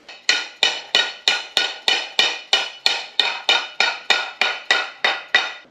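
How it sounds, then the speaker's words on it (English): Hammer taps seat a steering box bearing outer race on an old Toyota Land Cruiser: about sixteen sharp metallic strikes in a steady, even rhythm, close and loud with nothing else. "Get our outer race, and we'll tap that back into its position"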